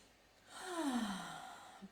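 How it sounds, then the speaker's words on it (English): Slow, deep breath during a guided heart-and-womb stillness meditation: a single soft, airy inhale swelling and easing out into a sigh-like exhale, close and quiet, with no talking. "take some deep breath cycles together"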